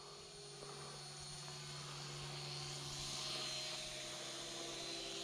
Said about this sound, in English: I will do just a quick pass at low throttle right around me.